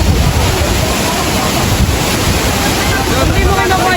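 A very tall waterfall pours down in a constant loud roar of crashing water, close by, with wind buffeting the microphone and no talk over it.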